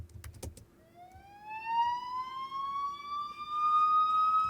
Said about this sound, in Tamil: ஒரு சைரனை வந்து ரொம்ப தூரத்தில் கேட்குற மாதிரி இருக்கிறதுக்காக ரிவர்ப் பட்டு அது எங்கேயோ மிக்ஸில் கேட்கும்